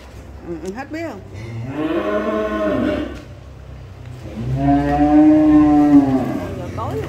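Cattle newly arrived at a farm give two long, loud bellowing moos in close succession, near and dominant, with a brief rustle before the first call.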